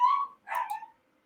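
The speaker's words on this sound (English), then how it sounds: "Sorry for Mason barking" A dog, named as the household pet, gives two short barks or yips close to the microphone, the second burst a little rougher, with no talking around them.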